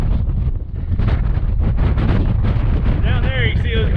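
Strong wind funnels through a gap in a canyon cliff in winter, buffeting the microphone in a loud, continuous roar, with a person's voice faintly audible over it.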